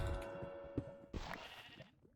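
Sheep bleating in a Minecraft-style video game: two or three short, wavering bleats sound close by over faint game background noise, with no talking.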